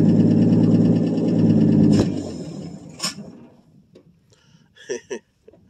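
A 1959 Ford F250 longbed stepside truck, cold-started after about three years of sitting, runs with a loud, steady engine drone for two seconds and then cuts out. Faint voices and a few clicks follow in the quiet.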